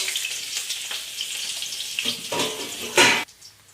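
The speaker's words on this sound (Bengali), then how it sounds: "এখানে যে ভাত ভাজা করব, এখানে লঙ্কা দিয়েছি, ফোড়ন দিয়েছি" Leftover cooked rice frying in a pan with chili, onion and tempering spices, giving a steady sizzle broken by scraping stir strokes and a loud hissing burst near the end before it drops away.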